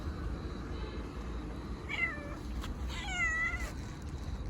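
A yellow cat meows twice, a short call followed by a longer wavering one, over a steady background hum.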